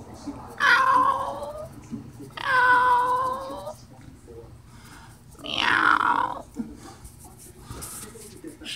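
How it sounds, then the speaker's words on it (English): Three drawn-out meows from a cat, close by, each a wavering cry separated by quiet pauses. "Go ahead, meow like you do, you funny meow."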